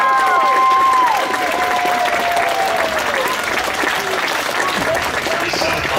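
A convention panel audience at Anime Midwest 2014 applauds loudly and continuously, with scattered cheers mixed into the clapping; some brief whistles or vocal tones rise briefly near the start.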